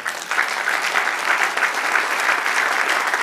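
Congregation at a church Bible study applauding in praise of the Lord, a dense, sustained wash of many clapping hands filling the room at even strength.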